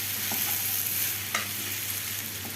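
Chicken pieces fry and sizzle in a pan for a chicken pasta tajine, giving a steady loud hiss with a few soft stirring knocks and scrapes, no voices.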